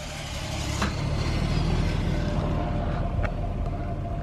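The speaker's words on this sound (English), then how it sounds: "Engine, start. It says wait on the remote. A couple seconds later, it should start." Toyota Chaser JZX100 engine idling after a remote start, a steady, close, low rumble with exhaust droning evenly and no voices over it.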